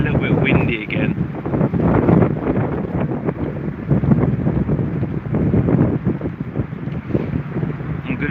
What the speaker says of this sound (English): It is still a little bit windy again.